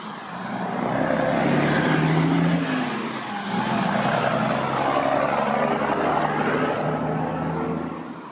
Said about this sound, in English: You want to hear a big truck?